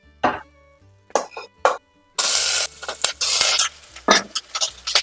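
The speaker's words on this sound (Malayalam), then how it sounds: "സവാള ഇട്ട് കൊടുക്കാം." Sliced onion dropped into hot oil in a pan for Kerala mutton stew, hissing into a loud, bright sizzle after a few clinks of utensils, then crackling on with bursts and spoon scrapes, close and clear.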